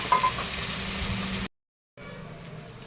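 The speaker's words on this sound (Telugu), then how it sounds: "పొటాటో, క్యారెట్, టమాటో వేసాను. ఇవి కొంచెం కూరగాయలు వేగాలండి" Potato, carrot and tomato pieces fry in a pan for Telangana-style bagara rice, making a soft, even sizzle that cuts out abruptly for half a second, then returns quieter.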